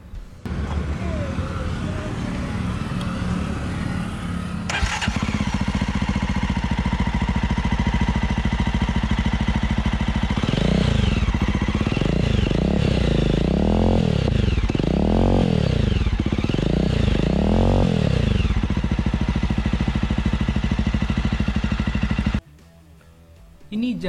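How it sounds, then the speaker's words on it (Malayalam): A Jawa Perak motorcycle idles with a steady thumping exhaust note, then is revved several times in distinct rising-and-falling bursts before settling back to idle and cutting off near the end, loud and close. "നമുക്കിനി ഇതിൻ്റെ ഒരു എക്സോസ്റ്റ് നോട്ട് ഒന്ന് കേട്ട് നോക്കാം."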